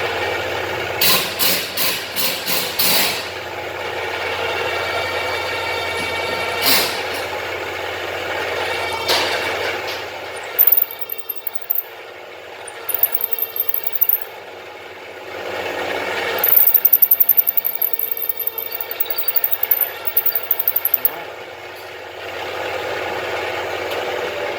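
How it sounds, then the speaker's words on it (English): Power drill boring out the track bar mount on a Jeep Grand Cherokee WJ, a steady whining motor broken by repeated bursts and stops, with sharp high squeals as the bit bites the metal, close by and without talk. "I'm gonna try to drill out this track bar."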